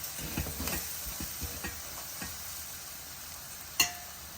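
Flat beans (chikkudukaya) go into hot oil with coriander powder and sizzle faintly, with soft scattered clicks and scrapes of a spoon and one sharp metallic clack near the end.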